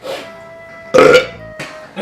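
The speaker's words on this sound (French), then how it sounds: "le gros rot de grosse" A loud, close burp lasting about a quarter second, set between bits of nearby talk.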